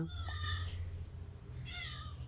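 A cat meows twice in a kitchen, two drawn-out cries separated by a short pause, close by over a steady low background hum.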